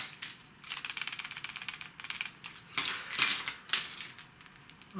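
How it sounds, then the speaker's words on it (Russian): Plastic fishing wobbler lures with internal rattles being handled up close, producing a dense run of small clicking, clattering bursts, quiet and irregular, with no talking. "Приманки все шумящие."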